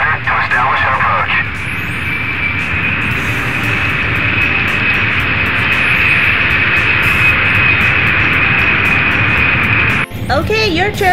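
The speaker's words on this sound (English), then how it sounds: "Okay, time to get the airplanes going." A toy airport airplane makes a continuous, loud takeoff engine sound with a steady high whine, lasting about ten seconds before cutting off, with a voice heard briefly at the start and end.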